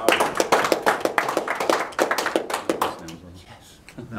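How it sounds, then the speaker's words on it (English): A crowd claps in a dense burst of applause that gradually thins out and fades toward the end. "Give him a round of applause."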